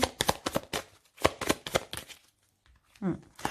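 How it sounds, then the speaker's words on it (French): Tarot cards handled and laid down on a table during a reading, a series of close quick papery snaps and slaps, then a pause and a brief voice. "Je vais mettre une carte sur la maison"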